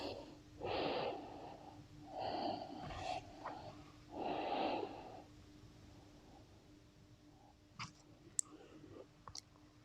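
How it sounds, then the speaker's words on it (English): Slow, deep breaths during a seated forward-fold stretch: three long, close breathy exhales in the first half, then quiet with a few faint clicks. "On your exhale, a few nice deep breaths here."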